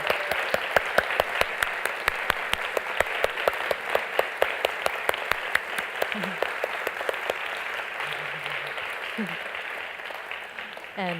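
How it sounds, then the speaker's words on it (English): An audience applauds standing practitioners at a gathering: steady, fairly soft clapping from many hands with a few loud nearby claps punctuating it, and brief voices underneath. "we're going to applaud for them"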